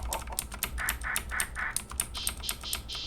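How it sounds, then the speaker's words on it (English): Rapid clicking keystrokes on a computer keyboard used to trigger samples, a quick irregular patter of sharp taps, close and clear with no talking. "but if I use my computer keyboard"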